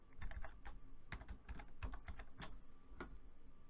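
Typing a coupon code on a computer keyboard during online checkout, a quick run of close, soft key clicks in an irregular rhythm, alone and fairly quiet.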